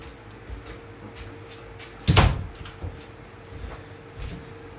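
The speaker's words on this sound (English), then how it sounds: "Okay, shut the door." A door shuts once with a solid, close thud, preceded and followed by faint rustling and small knocks in a quiet room.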